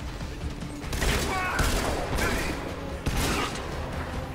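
Gunfire in the shooter game Crysis 3, with dense, loud bursts of shots and sharp impacts hammering along continuously at close range, mixed with game sounds and no talk over them.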